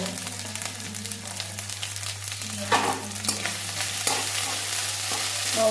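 Ginger with a little ground cumin and chili powder stir-fried in a pan: a steady oily sizzle with scraping stirring strokes throughout, close and moderately loud, no talking.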